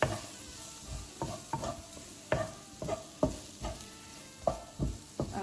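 Vegetables stirred in a dry pan before tinned tomatoes go in: a soft frying sizzle broken by regular spoon scrapes and knocks against the pan roughly once a second, close and quiet, no talking.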